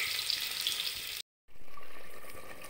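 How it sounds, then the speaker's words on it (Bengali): Chopped onions fry in hot oil in a pot for a goat meat curry, giving a steady bright hiss that cuts out briefly and then resumes as a duller sizzle. "এরপর আমি এর মধ্যে দুটো পেঁয়াজ কুচি ভাজার জন্য দিয়ে দিয়েছি।"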